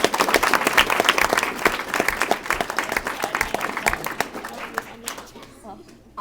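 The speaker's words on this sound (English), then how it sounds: "Can we give them a round of applause for" Audience at a university banquet applauds with dense, lively clapping and crowd noise over several seconds, some voices audible underneath, before the clapping thins and stops abruptly.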